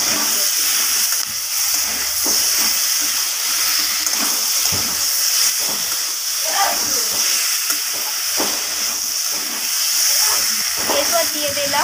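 Potatoes are being stir-fried with spices in a pan for a vegetarian curry with paneer, capsicum and cauliflower, giving a steady hiss and sizzle. Scraping and stirring knocks come through throughout, and there is no talk.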